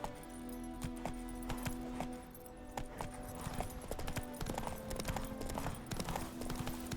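Roach, the horse in The Witcher 3, clip-clops steadily at a walk, hoofbeats near and regular over a low ambient game soundtrack, with a brief jangle of tack.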